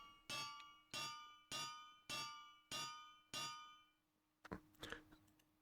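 Superheated Ventium is hammered in a video game: five evenly spaced, ringing metallic clangs, each fading before the next, then a brief, rougher clatter of metal.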